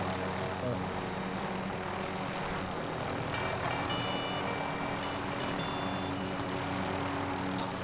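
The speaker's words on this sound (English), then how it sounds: "My helicopter blades." Steady whirring drone of helicopter rotor blades in the video game Call of Duty Warzone, a continuous engine and propeller hum with faint electronic beeps layered over it.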